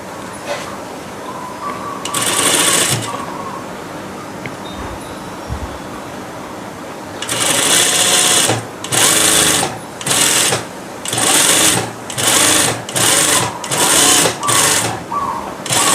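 A sewing machine stitches along the edge of pleated, ruffled skirt fabric to finish the hem: one short run, a pause, then a string of quick, loud stitching bursts separated by brief stops.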